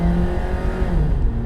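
Loud, steady road and engine drone inside a Toyota RAV4 while driving, a dense low rumble with faint tonal hums filling the cabin continuously, no voices.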